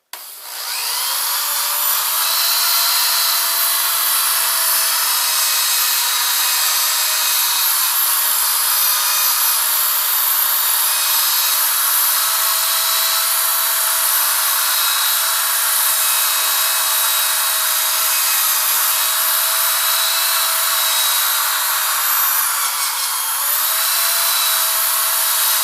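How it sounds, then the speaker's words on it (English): Cloudy, yellowed car headlight being sanded with a 3M headlight polishing kit's power drill attachment, a loud steady whirring grind running continuously for the whole stretch with a slight pitch shift near the end, no talking. "you're actually sanding into the headlight and taking off that outer layer that's discolored."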